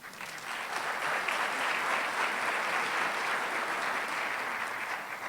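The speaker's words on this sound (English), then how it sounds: "Let's give one last round of applause for everything that UCCS has going on in Colorado Springs" An audience at an economic forum in Colorado Springs applauds, a dense, sustained clapping that swells in quickly and holds steady throughout.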